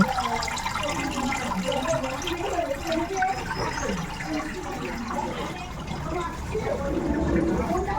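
Water trickles and burbles steadily from a home aquarium, a close continuous bubbling wash with faint room chatter mixed in beneath it.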